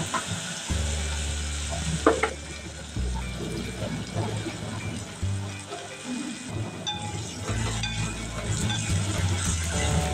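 Paneer chilli being stirred with soy sauce in a hot pan: steady sizzling and frying under scraping stirring strokes and brief pours, with some background voice at moderate level.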